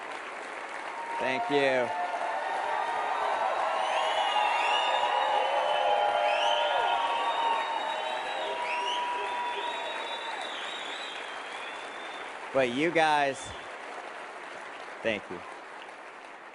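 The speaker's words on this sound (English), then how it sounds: "The applause was a little long" Audience applause with some cheering after a talk, sustained and fairly loud across most of the span, with someone speaking briefly over it at the start and again near the end.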